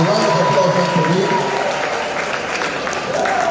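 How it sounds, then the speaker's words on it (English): Audience applause at a university event in Offa, Nigeria, welcoming a London-to-Lagos motorbike traveller; steady dense clapping fills the room, with a voice talking over it throughout. "A round of applause once again."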